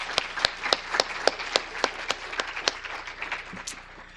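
An audience applauding the first cohort of Minoru Yasui Activism Award recipients: a modest round of distinct handclaps in an uneven rhythm, fairly close, gradually thinning and fading toward the end.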